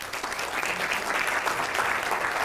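A college audience applauds new faculty members at a dean's address, a continuous even round of clapping from a crowd that holds steady throughout, moderately loud and without speech.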